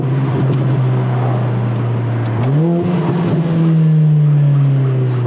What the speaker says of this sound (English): Gotta roll the windows down so we can hear the car.